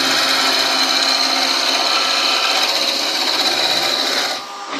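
Skew chisel cutting a wood spindle on a lathe, a steady loud rasping shear that runs continuously without a break before easing off abruptly near the end.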